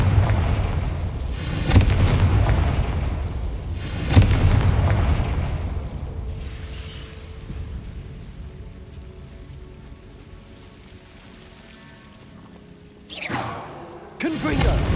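Confringo blasting spell in Hogwarts Legacy, with several loud booming blasts spaced seconds apart, each with a crackling decay, then a quieter stretch before another burst near the end.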